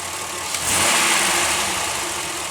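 Pontiac Aztek engine running rough after idling smoothly, a steady close mechanical rumble with uneven surging and a rise in level partway through.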